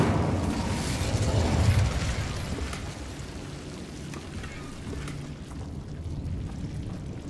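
An Incendio fire spell cast in Hogwarts Legacy, a loud roaring whoosh of flame that peaks early and then fades into a lower, crackling rumble.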